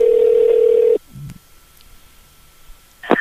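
A telephone line tone sounds steadily and loudly for about a second, then cuts off, followed by faint clicks and low noise while a call is placed back, and a brief electronic chirp near the end.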